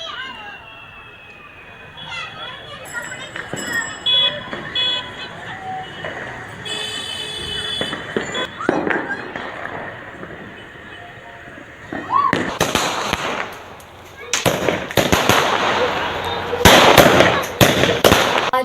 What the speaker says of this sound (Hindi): पटाखे फोड़े जा रहे हैं और आतिशबाजी का सिलसिला जारी है